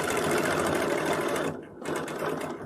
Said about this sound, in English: so I'm just going to sew down there